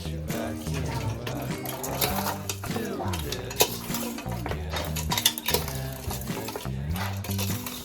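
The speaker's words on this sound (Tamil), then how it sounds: "இவ்வளோ உப்பு போட்டு நல்லா மிக்ஸ் பண்ணணும்." Head-meat curry pieces being mixed with salt by hand in a metal vessel at home, with steady clinking and scraping of pots and utensils throughout, fairly close and continuous.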